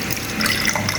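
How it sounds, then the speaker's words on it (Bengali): Cold water pours into a jar or bottle for cold coffee, a steady close splashing trickle lasting about a second with no talk. "এটুকু জল আগে ঢাললাম"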